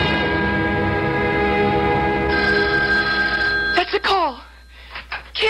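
A telephone bell rings steadily for several seconds, then cuts off as a voice briefly speaks nearby.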